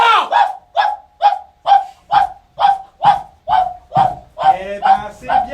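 A Saint Bernard barks near and loud, a steady series of about a dozen evenly spaced deep barks, some ending in a slight whine.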